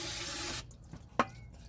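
Aerosol cleaner sprayed onto a differential cover surface during a diff cover reseal in a garage, a loud continuous hiss for about half a second that cuts off abruptly, followed by a couple of faint clicks.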